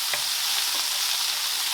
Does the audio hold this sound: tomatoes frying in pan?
yes